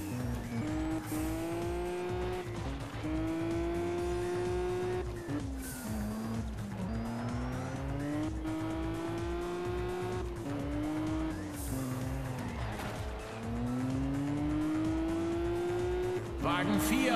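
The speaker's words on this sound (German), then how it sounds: "Wagen 4 fährt seitwärts um die Kurve." Race car drifting sideways around a curve in the racing game Juiced 2: loud droning engine notes rising and falling through gear changes, with tire squeal and skidding layered over it throughout.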